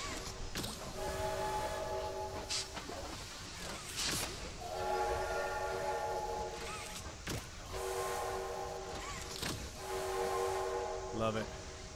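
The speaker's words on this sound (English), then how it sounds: "I'm gonna keep pulling the train horn" A train horn is pulled again and again in the video game Poppy Playtime Chapter 2, giving loud, sustained, multi-tone blasts in repeated bursts, with a player talking over and between them.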